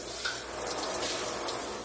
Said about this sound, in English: Got to put a little bit of water